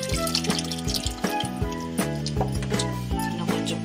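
Tamarind water poured into a pot of simmering brinjal chutney, a steady liquid splash and trickle with faint dripping close by, no talking.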